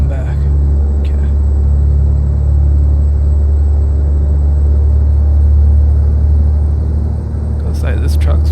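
Heavy truck engine in American Truck Simulator, an 18-speed manual rig, droning as a steady low rumble the whole time, close and constant, with a person talking over it and a couple of brief clicks near the end.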